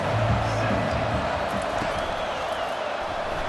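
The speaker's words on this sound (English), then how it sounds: "The roar of the crowd trying to fuel this defense to keep them pinned in their own end." Crowd roaring at a Temple versus sixth-ranked LSU college football game. A steady, distant wall of crowd noise fills the stadium, with commentary talk over it.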